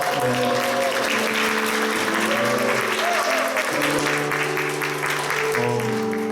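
A church congregation at a Sunday worship service bursts into loud, continuous applause to welcome a returning member, with sustained instrumental notes ringing steadily beneath the clapping throughout.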